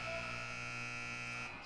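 A halftime buzzer sounds at a women's college basketball game, a steady loud electronic drone held for over a second before cutting off.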